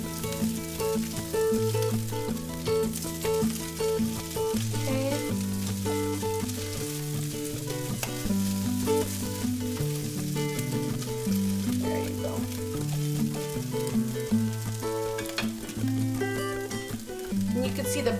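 Salmon cakes coated in breadcrumbs fry in olive oil in a pan, a steady close sizzle running the whole time beneath loud, continuous melodic music.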